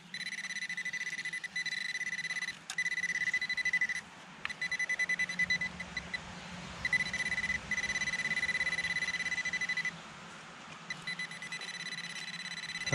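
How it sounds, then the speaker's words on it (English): A metal detector emits a steady high-pitched electronic tone in long stretches broken by short pauses and choppy pulsing, loud and clear while searching near an old well. "The beeping does get old."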